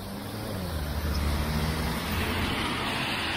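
A car rolls past on a cold, snowy Montreal city street, a steady close road rumble and tire hiss that swells in the middle, heard alone without voices.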